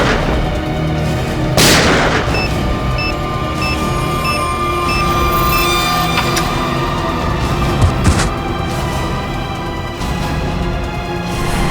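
A bomb blast tearing through a car in a TV crime drama: one sudden loud boom near the start, then a rumbling, ringing aftermath under a dense dramatic score, with a smaller crack later.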